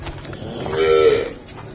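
A buffalo at a livestock sale in Depalpur, Okara district, Punjab, gives a single low, drawn-out moo that swells in the middle and tails off, with faint farmyard background.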